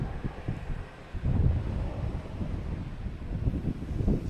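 Gusty wind blows across an open airport at Boston Logan, buffeting the microphone with a steady low roar that swells and dips in strength.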